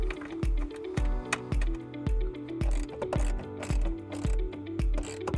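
A ratchet cranks in quick repeated bursts while tightening a ground-wire bolt during wiring harness installation on a 2019 Toyota C-HR, the clicking pawl sounding close and steady with brief pauses between strokes; nobody speaks.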